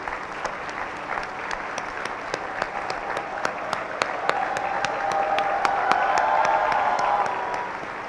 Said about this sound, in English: join me in thanking your parents and your teachers with at least one round of applause